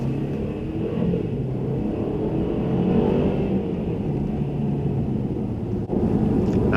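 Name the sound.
2017 Mercedes E-Class car driving on road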